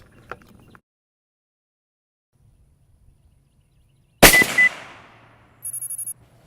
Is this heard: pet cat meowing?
no